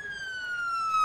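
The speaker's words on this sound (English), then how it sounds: "Ambulance!" An ambulance siren in the Emergency 4 game gives a steady, slowly falling electronic wail that grows slightly louder across one brief stretch.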